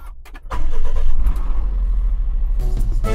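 A truck engine, unused for a week, cranks briefly with a whirring starter, catches and surges loudly, then settles into a rough, rumbling idle close by, with a short clattering burst near the end.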